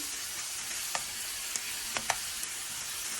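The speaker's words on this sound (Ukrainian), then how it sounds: "перловка смажую на олії" Faint, steady sizzling of pearl barley frying in oil, with a few soft clicks and pops scattered through it.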